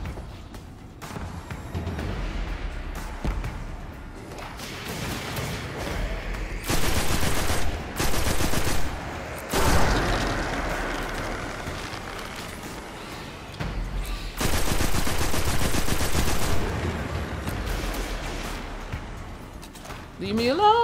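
Gunfire in the Destiny 2 video game, repeated bursts of heavy shooting interrupted by short pauses, loud and punchy over a background of game sounds, with a voice talking at times.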